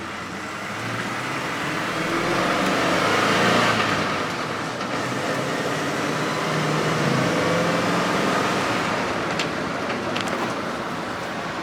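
A Ford F250 dually 4x4 stretch cab with a V8 and five-speed manual pulling off uphill, its engine rumble swelling steadily and holding loud and close, with no talk.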